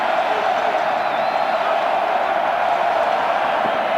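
Stadium crowd at Ross-Ade Stadium during a Purdue football game against Indiana, reacting to an announcement: a steady, dense roar of massed voices that stays loud and even throughout, with no clear peaks or pauses.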